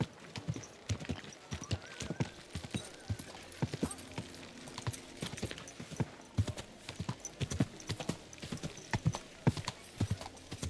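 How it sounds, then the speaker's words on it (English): Horse hooves clip-clopping in Kingdom Come: Deliverance II, a steady rhythmic walking gait of sharp, close hoof strikes, with a brief whinny and some faint talk over it. "Easy, good horse."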